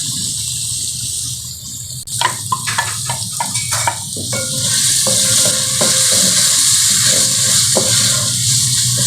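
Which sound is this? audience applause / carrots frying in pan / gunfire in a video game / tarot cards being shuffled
carrots frying in pan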